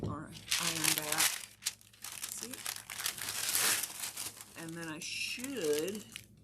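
Heat transfer vinyl peeled slowly back from fabric, a close crinkling, crackling rustle in uneven bursts, with a person talking over it throughout.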